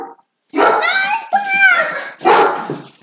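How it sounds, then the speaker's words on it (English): A dog barks and yips loudly nearby in a rapid, continuous burst, its higher whining tones rising and falling. "I think he's barking"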